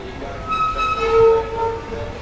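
A Rome metro train hums and rolls nearby, with steady tonal whine from the carriages and a faint voice in the background.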